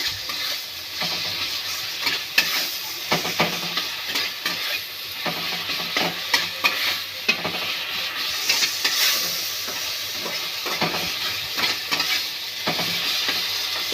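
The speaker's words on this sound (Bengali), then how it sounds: "দিয়ে আমি একটু ভালো করে নেড়ে নেব।" Food with turmeric cooking in a pan, stirred with a spatula: continuous frying sizzle broken by frequent irregular scraping and clinking strokes, close by, with no talking.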